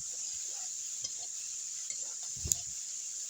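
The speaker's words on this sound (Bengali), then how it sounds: "ভেজে রাখা সয়াবিন আর মশলাটা দিয়ে কিছুক্ষণ আমি কষিয়ে নিব।" Soybeans frying with spices in a pan for a soybean do pyaza, a steady high sizzle throughout with scattered soft scrapes and stirring clinks, one sharper knock of utensil on pan near the end.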